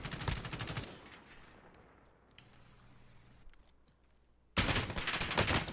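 Rapid gunfire bursts from the Call of Duty: Modern Warfare video game, loud at the start, dropping to a quieter stretch, then returning hard and dense at the end.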